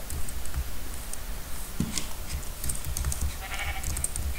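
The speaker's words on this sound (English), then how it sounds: "I saw a sheep." Sheep bleating inside the video game Minecraft, a few short game-style bleats surfacing briefly over steady background game noise and clicking, fairly faint and not close.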